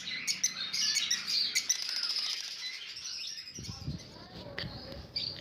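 Lovebirds chirp and tweet in a busy bird market in Chichawatni, a dense chorus of high, rapid calls with some wing flutters, while low voices and market noise rise underneath later on.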